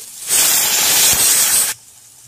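Water hits a hot pan of salted tomatoes and bursts into a loud, sharp hiss of steam that lasts just over a second and then cuts off abruptly.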